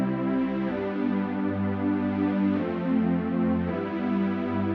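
A simple layered synth pad plays unfiltered, holding smooth sustained chords that shift a few times over nearly five seconds, alone and without voices.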